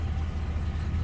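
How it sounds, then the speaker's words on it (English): A 1991 Jeep Grand Wagoneer engine with a Motorcraft 2100 carburetor, running rich and reluctant to idle, gives a steady, close, low rumble throughout, with no talk over it. "I'll have to feather it for a while, give it a few revs."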